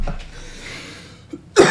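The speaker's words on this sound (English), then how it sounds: "I apologize for my cough, y'all." A single harsh cough bursts out near the end, close and loud after a stretch of low room noise and a faint earlier breath-like sound, during a tabletop dice game session.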